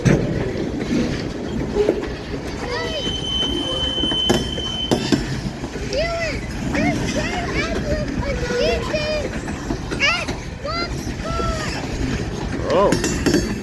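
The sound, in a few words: freight train with ELS 503 and 400 locomotives passing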